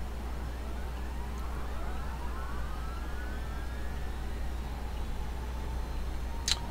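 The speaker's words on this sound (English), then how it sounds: "And we will start the right engine." The right turboprop engine of a Dash 8 Q400 starts up in the X-Plane 11 flight simulator, rising whining tones sweeping upward over a steady low hum, with a sharp click near the end.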